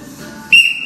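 A coach blows a whistle during a chest workout: one loud, sharp blast cuts in over quiet room murmur and holds for a moment before easing off.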